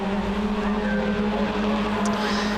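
On-board sound from a BMW Compact race car racing at Castle Combe circuit: a loud, steady engine drone with a constant low hum and brief tire noise near the end.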